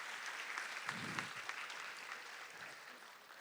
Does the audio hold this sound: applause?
yes